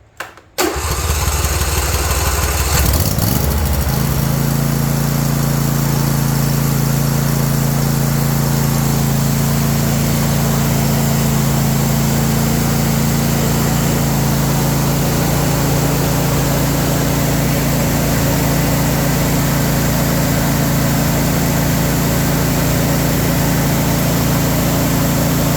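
A John Deere S130 riding lawn mower engine cranks and catches, then settles into a loud, steady idle that drones on close up for over twenty seconds with no talking.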